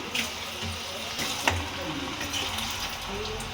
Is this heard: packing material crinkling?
no